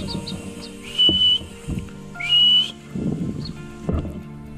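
Two clear rising whistles from a person calling a baby cockatiel to hand feeding, each about half a second long, with faint chirps and soft rustling between them.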